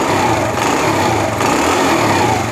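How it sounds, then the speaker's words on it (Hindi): A Honda CD70 motorcycle runs after a kick start, its small single-cylinder engine giving a steady, buzzing putter close by, loud and continuous with no speech. "अब इसका साउंड भी सुनते हैं और देखते हैं कि ये हाफ किक स्टार्ट होता है या नहीं"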